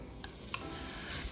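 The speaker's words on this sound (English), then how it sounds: "we're gonna cook our bacon" Bacon rendering over medium heat in a Le Creuset pot for Manhattan clam chowder, a faint, soft sizzle with a couple of light utensil taps, quiet and brief.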